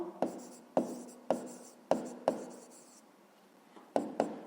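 Pen or pencil writing by hand on paper during a fifth-grade maths exercise, close and clear, heard as a run of short scratchy strokes in bursts with brief pauses, and no one talking.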